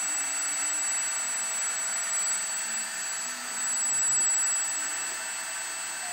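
Hydraulic pump of a 1/14 scale 2+5 axle RC lifting trailer for a Tamiya RC tractor truck raising its deck, a steady high-pitched electric whine with a constant tone that runs unbroken at close range without speech.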